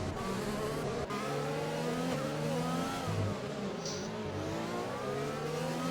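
GP3 race cars at the Abu Dhabi Grand Prix, engines droning and revving loudly together as a pack runs close, with shifting pitch and faint commentary underneath.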